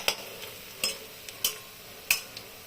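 Lentil fritters fry in hot oil with a soft, steady sizzle, broken by several sharp clinks of a spatula against the pan.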